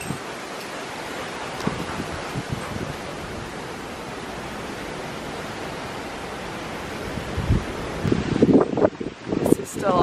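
Strong gusts in a storm-damaged backyard just after Hurricane Irma make a continuous broadband rush of wind, with brief louder bursts and movement noise near the end.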